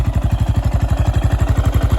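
A restored 2001 Yamaha Raptor 660R ATV engine idles steadily at low revs, a loud, close, evenly pulsing thump of about eight beats per second with a clattery mechanical edge and no talking.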